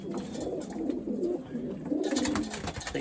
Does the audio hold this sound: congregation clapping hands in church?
no